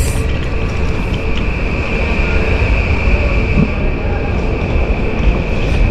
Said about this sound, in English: You see there is a train now on platform 6.